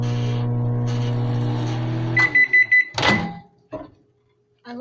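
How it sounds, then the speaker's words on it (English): A microwave oven heating pop-tarts hums steadily, then the hum stops and several sharp beeps sound, followed by a door clunk and a brief handling noise near the mic. "Put them in the microwave."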